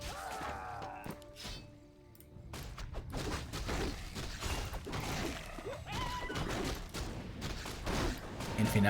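Mortar teams fire during a Warcraft III match, a busy stream of battle impacts, thuds and crashes layered with unit noises and steady in-game clutter throughout, with a brief lull near the start.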